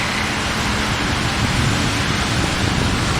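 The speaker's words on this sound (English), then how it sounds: "It's a downpour of rain and they're still working." Heavy rain pours down over a building construction site in Brazil, a dense, steady roar of drops hitting surfaces, loud and unbroken throughout.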